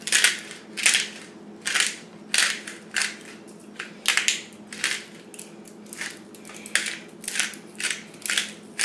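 Salt and ground pepper go onto a steak, with a pepper grinder cranking in a run of short, crisp, evenly spaced crunching bursts, close and fairly quiet, with no talk.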